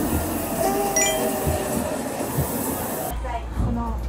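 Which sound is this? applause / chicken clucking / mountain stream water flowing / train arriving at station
train arriving at station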